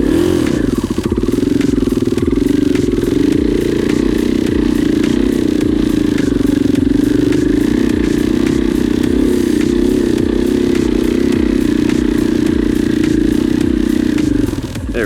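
An off-road motorcycle climbs a dirt trail at the Stonyford OHV area with a loud, steady engine drone held for the whole stretch, while stones clatter and scrape beneath it and the engine dips briefly at the end.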